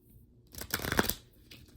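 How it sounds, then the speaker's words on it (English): A deck of cards is shuffled in one brief, crisp riffling burst that swells and fades, close up and alone. "So I'm going to just give it a shuffle."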